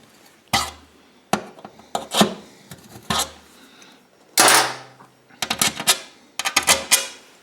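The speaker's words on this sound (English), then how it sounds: "So I'm going to use a repairman's reamer to clean them up just a little bit." Repairman's reamer cleaning up holes in a fuel kit fitting for a Honda EU7000iS generator, giving a series of sharp close scraping and rasping bursts separated by brief pauses, loud and alone.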